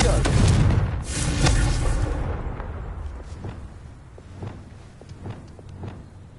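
A fiery Confringo blast spell in Hogwarts Legacy, a loud booming burst up front that decays into a rumbling tail, followed by fainter scattered impacts and crackles.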